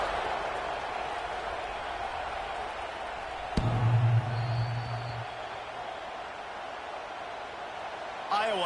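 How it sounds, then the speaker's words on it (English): Stadium crowd in College Football 26 keeps up a steady, buzzing roar through an Iowa game, with a brief low thump partway through. "this crowd is buzzing after that last score"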